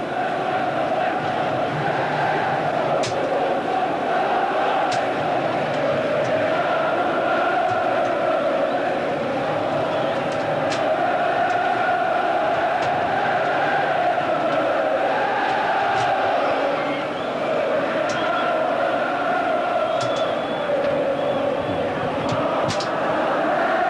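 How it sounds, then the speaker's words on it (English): Large football crowd at the Sunderland v Gillingham play-off second leg, a steady loud roar of massed voices with chanting and scattered shouts, continuous and distant-to-mid in a big stadium. "just listen to the crowd as the teams take a couple of minutes break at the end of 90 minutes"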